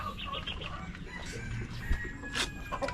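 Backyard breeder chickens clucking and a rooster crowing around a small farm, several birds calling near and far over steady outdoor background noise.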